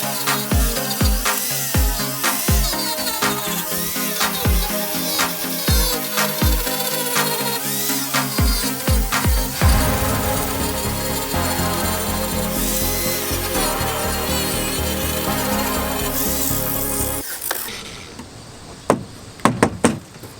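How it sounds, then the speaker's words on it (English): A wooden trim piece is pried and pulled off a duck boat with tools, giving a run of sharp knocks followed by long scraping, rubbing and sawing-like noise, then a few final close taps. "I'm gonna take off this other trim piece that was on this side over here quick"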